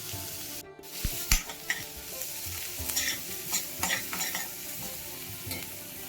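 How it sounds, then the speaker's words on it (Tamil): Onion and green chilli sauté in a pan with curry leaves and salt for a brinjal palya. A soft sizzle sits under irregular spoon scrapes and clinks against the pan, with a few sharper knocks early on. "ஆனியன், பச்சை மிளகாய் போட்டு வதக்கிக்கலாம்"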